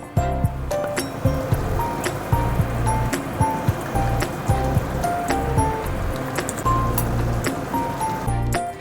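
Water rinsed from a mixer bowl pours into poppy seed paste, a busy, continuous splashing wash mixed with close clinks and knocks of utensils in a home kitchen.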